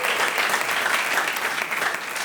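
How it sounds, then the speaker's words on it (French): Steady, dense applause from an audience at a live comedy show, loud and continuous throughout with no talk over it. "Allez, on applaudit ensemble,"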